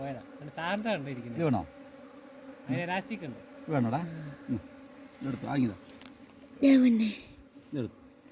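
Honey bees being moved from the soil into a hive buzz close up in uneven bursts that swoop up and down in pitch, with brief quiet gaps between them.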